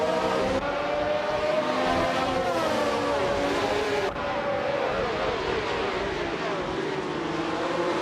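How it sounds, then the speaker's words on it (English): A pack of cars led by a classic 1970 Lotus 72D roars off the start at Grand Valley Speedway in a racing video game, several engines droning and shifting pitch together, loud and continuous with no talk. "the race has just kicked off at Grand Valley Speedway"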